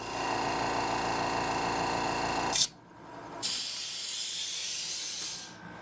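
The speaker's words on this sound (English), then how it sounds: "So I got me a mini air compressor. It's only a 26 gallon, but it's extremely quiet." A small 26-gallon air compressor runs with a steady hiss and hum, cuts out abruptly for a moment, then resumes its even, fairly quiet hiss before tapering off.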